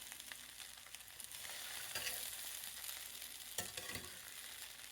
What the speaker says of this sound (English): We'll just give a light flip to all this poha.